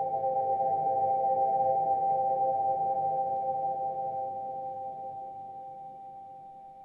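A soft synth chord preset named Is This a Dream, built from three MIDI notes, sustains as a quiet, steady dreamy pad that slowly fades out, with no voices.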